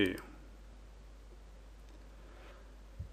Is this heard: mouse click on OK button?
yes